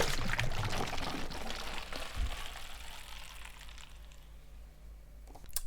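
Water swirls and drains through a tornado bottle made from two joined plastic bottles, a continuous gurgling rush that gradually fades and thins toward a quieter trickle.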